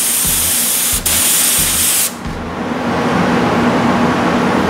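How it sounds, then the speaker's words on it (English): An ANEST IWATA LS400 Supernova spray gun fires a test spray against paper, producing a loud, steady hiss with the short pulsing thump of an air compressor underneath that fades partway through. "I'm gonna do a test spray right here, right up against the paper to see how the pattern looks"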